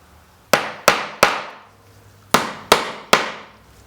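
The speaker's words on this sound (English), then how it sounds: "take the hammer and drive each one of those finishing nails in" A hammer drives finishing nails into wooden reinforcing blocks on a PT11 boat build, six sharp ringing strikes in two groups of three, each decaying quickly, close and loud with no talk.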